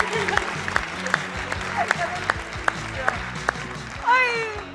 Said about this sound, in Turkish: Ayça Ayşin Turan'a alkışlarla uğurluyoruz